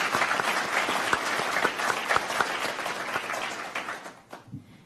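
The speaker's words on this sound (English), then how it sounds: "I think that deserves a round of applause." Applause from the audience at a ceremony signing a Millennium Challenge Corporation compact with Côte d'Ivoire, a dense steady clatter of many hands that thins and fades out near the end.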